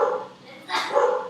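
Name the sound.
dog barking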